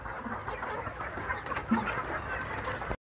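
A small flock of young chickens, just over a month old, in a hot coop with a few pecking at feed, giving soft scattered clucks over a steady background murmur.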